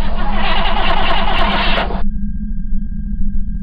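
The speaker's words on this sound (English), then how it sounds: "Scotty, start the engine, and then let's get out of here." An engine is cranked for a starting attempt: a loud, dense grinding burst lasts about two seconds and cuts off abruptly, leaving a lower steady hum with a thin electronic tone above it.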